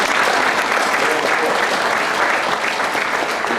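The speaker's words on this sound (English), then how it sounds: "Please give her a round of applause." An audience at a speaking event applauds for a woman being honored, producing a loud, continuous wash of clapping that stays even from start to finish.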